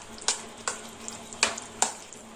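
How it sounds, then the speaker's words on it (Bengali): Dough being kneaded and mixed by hand in a home kitchen, four sharp slapping squelches spaced about every half second over a faint steady hum, with no talking. "আমি ভালো করে এটা মেখে নিচ্ছি"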